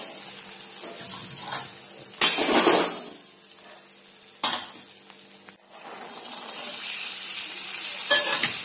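Masala stir-fries in a pan with lima beans, a steady sizzle broken by loud bursts of hiss and clatter as ingredients hit the oil and get stirred, then settling back to a quieter fry.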